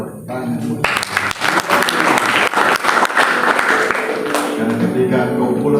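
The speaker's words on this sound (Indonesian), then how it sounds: "Yang mau sungguh-sungguh berikan tepuk tangan." Congregation clapping at a fasting prayer session on Gunung Salak in Bogor, a burst of hands rising suddenly after a voice and holding as sustained applause, with a speaker's voice and music continuing beneath.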